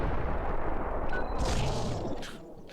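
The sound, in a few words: Rogue's special explosion move in X-Men: Mutant Academy 2 video game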